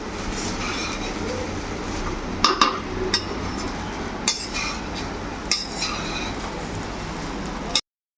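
Cooked rice is stirred into a pan for mixed fried rice, with scattered clinks and scrapes of a utensil against the pan over a constant low background rumble.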